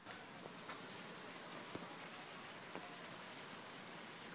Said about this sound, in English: Listen to the rain. Like, tell me this isn't soothing.